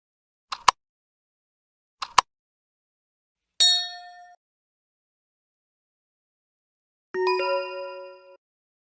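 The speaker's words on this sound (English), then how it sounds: "The dog's bell." A dog's bell rings out in quiet: two quick double clinks, then a single bright ding with a short ringing tail, and later a fuller, longer chime that fades away.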